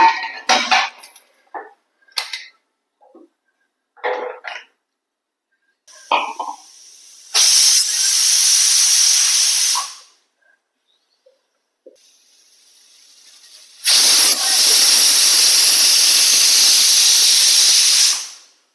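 A pressure cooker whistles twice: two long bursts of loud hissing steam rush out, preceded by short clattering and scraping sounds close by.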